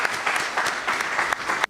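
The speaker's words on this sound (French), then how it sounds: "Applaudissez-les." A conference audience in Montreal applauds as two guests come to the stage, a brief burst of dense, steady clapping from a roomful of people that cuts off abruptly at the end.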